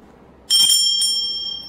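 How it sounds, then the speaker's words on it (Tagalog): A small exorcised blessed hand bell from Guadalupe, Mexico, is struck once, close and loud, ringing with a bright metallic tone that sustains and slowly decays. "The exorcised blessed bell."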